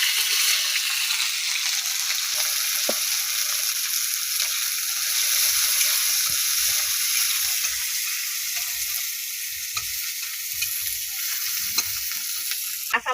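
Chopped onion and chili fry in oil in a wok, with a steady, loud sizzle running throughout and occasional soft stirring clinks.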